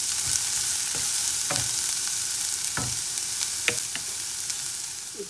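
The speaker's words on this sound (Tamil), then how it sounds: "எண்ணெய் சூடான பிறகு நாங்கள் வெங்காயத்தை போடணும்." Onions fry in hot oil for a homemade sauce, giving a steady close sizzle with soft crackles and occasional stirring scrapes, and no voices.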